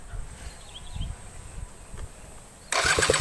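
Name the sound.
Suzuki RC 100 motorcycle engine starting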